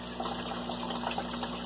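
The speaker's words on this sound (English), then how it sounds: "lots of water pouring out." Water gushes steadily from an aquaponics siphon in a DIY aquarium system as the tank drains, a continuous close pouring rush with no voices.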